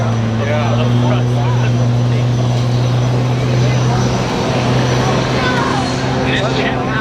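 Jet-powered aerobatic plane with a General Electric J85 engine at a Marine Corps air show, a loud steady engine drone with strong low tones, heard under an announcer's voice.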